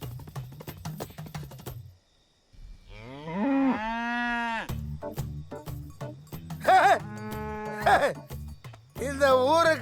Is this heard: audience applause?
no